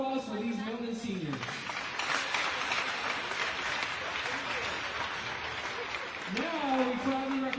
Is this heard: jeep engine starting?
no